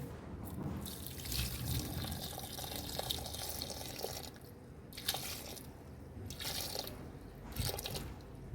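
Water pours and splashes steadily while a tulsi plant is watered on a home balcony, with a few brief pauses and louder gushes, close by and with no talk.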